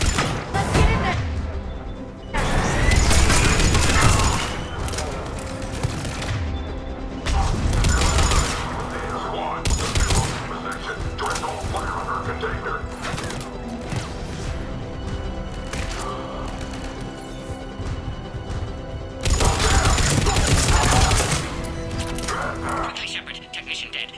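Heavy gunfire at a checkpoint in the video game Mass Effect 3, Cerberus troops firing, with loud crashing bursts and sustained volleys under radio chatter and talking throughout.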